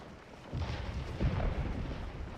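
Cannon artillery fire in the Civil War battle game Scourge of War: Antietam, a deep, rumbling boom that swells and rolls on, sounding distant and muffled, with no talking.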